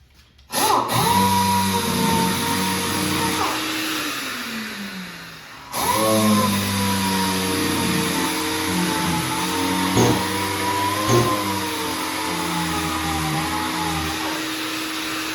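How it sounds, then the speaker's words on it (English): A power sander works 180-grit paper across a Journey arcade cabinet during restoration while a vacuum runs steadily, a loud continuous whine that cuts out briefly near the middle and then resumes with small bumps and knocks. "So I'm going to go ahead, this is 180 grit, I'm going to go ahead and start sanding this down"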